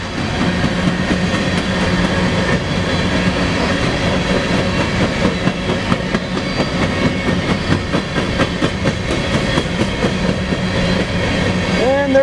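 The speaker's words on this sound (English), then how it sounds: "And there's the end locomotive, coming up here real soon." A BNSF SD70ACe locomotive's eastbound coal train rolls past near Spokane Valley, a loud continuous rumble of freight cars with rhythmic wheel clatter over rail joints and a brief squeal near the end.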